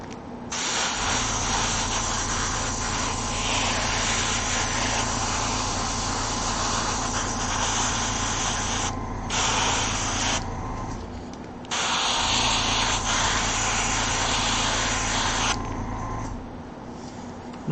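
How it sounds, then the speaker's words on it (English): Primer hisses from a spray can onto Gunpla model kit parts in long continuous bursts, close and loud, with brief pauses between passes and no talk. "Not spraying both sides, but spraying all the angles once again that it's showing"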